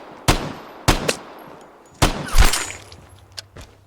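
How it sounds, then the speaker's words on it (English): Shotgun blasts in the shooter game Vigor: a handful of sharp, loud reports in quick succession, a few fainter shots trailing at the end. "Don't ask me how I shot that man in the head."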